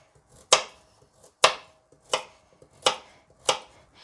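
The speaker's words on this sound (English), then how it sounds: "I am going to cut the ends off the carrots" A knife chopping the ends off carrots on a cutting board, five sharp, distinct thuds spaced roughly a second apart with quiet between them.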